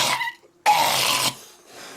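A voice imitating a cat hacking up a furball: two harsh raspy coughing bursts separated by a brief silence, loud and close, with a softer trailing breath afterward.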